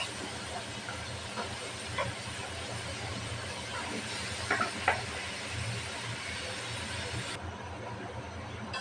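Bottle gourd sizzles as it goes into a fried spice mix in a pan, a steady hiss with a few brief clatters and stirring knocks, close and unbroken, no voices.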